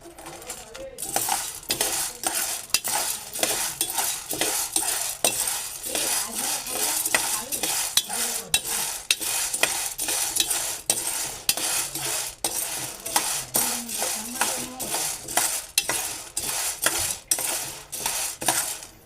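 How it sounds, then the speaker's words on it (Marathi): Val beans dry-roasting in a pan, a brisk, continuous rattle of the beans being tossed and scraped in quick, regular strokes, close and loud, with no speech. "तर हे मी वाल चांगल्या प्रकारे भाजून घेतो"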